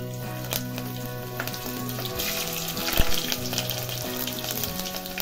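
Cumin seeds, curry leaves and green chillies fry in hot oil for jeera rice and varan, a steady close sizzle with faint stirring and clinks, and no one speaking.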